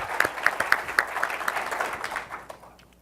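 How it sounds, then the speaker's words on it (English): Small audience at a tech conference session giving a brief round of applause, with scattered individual claps that thin out and fade within a few seconds, fairly faint. "Let's give a better applause."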